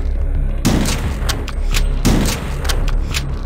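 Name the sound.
super shotgun firing in video game HROT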